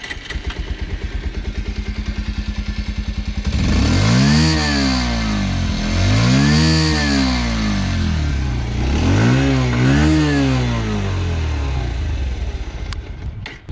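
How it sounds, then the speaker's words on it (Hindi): Bajaj Pulsar 125 BS6 motorcycle with electronic fuel injection idling with a steady close putter, then revved three times in rising and falling sweeps before settling back to idle, loud with no talk. "इस गाड़ी को स्टार्ट करके इसका एग्जॉस्ट नोट सुन लेते हैं."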